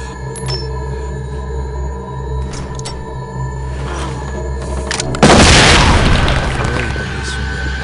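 A stun grenade detonates in the SWAT 4 police tactical shooter, mission at the Fairfax house: a sudden loud broadband blast after a steady low game ambience, then a sustained ringing, hissing wash that slowly fades.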